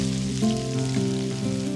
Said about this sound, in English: we're just gonna add the potatoes right into this oil